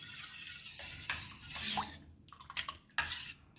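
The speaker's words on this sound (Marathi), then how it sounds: "आता आपल्याला हे छान मिक्स करून घ्यायचं आहे" A spoon clinks and scrapes around a bowl while ragi ambil is mixed with crushed garlic, green chili and coriander, giving a run of close, soft knocks and wet stirring sounds.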